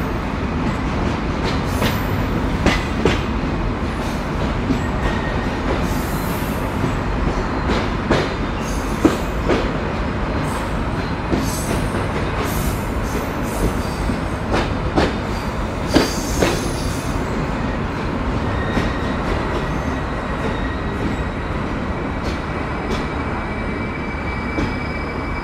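The Shimanto Express pulls out of Chuadanga railway station at night, a steady rumble of railcars with rattling wheels, occasional squeals and clicks, loud and close throughout.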